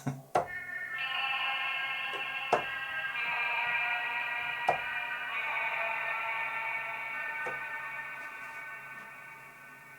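Household-object sample drenched in delay and a big reverb, sounding lo-fi and eerie: a few sharp percussive hits followed by a sustained, shimmering tonal wash that slowly decays over ten seconds.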